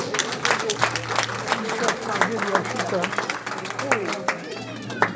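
Church congregation applauding during a French-English sermon, scattered claps mixed with crowd chatter and voices over a steady low hum, lively and continuous for several seconds.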